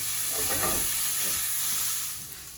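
Prawns pre-seasoned with garlic and chilli sizzle steadily in a hot pan, a close, continuous frying hiss with faint stirring noises, no voices.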